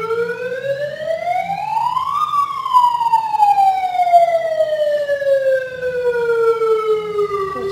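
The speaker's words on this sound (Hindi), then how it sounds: "कुछ एम्बुलेंस वगैरह क्रॉस करी है।" A loud, close ambulance siren wails, its pitch climbing sharply then sliding slowly down, with no other sound competing.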